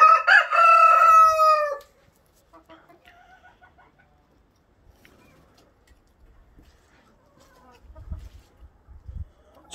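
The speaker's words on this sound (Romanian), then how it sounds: "Cocoșul ăsta nu mă lasă să filmez." A rooster crows loudly and close by in a yard where pigeons are kept, one long call followed by quiet and some faint low knocks and rustling.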